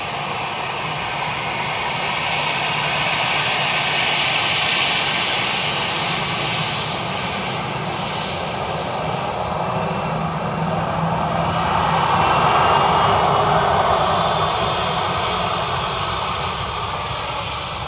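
Airliner engine roaring at Dublin Airport, a loud, broad steady rumble that swells and fades across about eighteen seconds, heard alone without talk.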